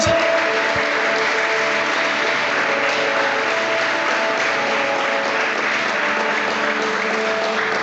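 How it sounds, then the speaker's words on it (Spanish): A church congregation at Vida Church Maturín applauds loudly and continuously, a thick, sustained wall of clapping with a faint held musical tone running beneath it. "Vamos a aplaudirle fuerte a Dios."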